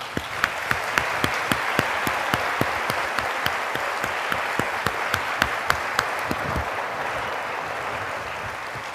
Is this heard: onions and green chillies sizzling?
no